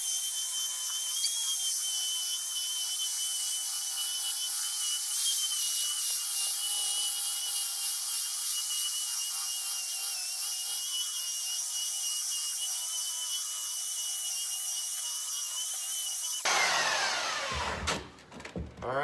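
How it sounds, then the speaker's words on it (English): An electric sander works across the bottom of a live edge wooden cutting board at 120 grit, a loud, steady high whine and rasp that runs unbroken, then cuts off abruptly near the end. "I'm going to now finish sanding the bottom half, or the bottom side of the live edge cutting boards."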